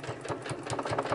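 Sewing machine stitching a fabric junk journal cover, a steady close whirring with rapid rhythmic needle pulses and no voices.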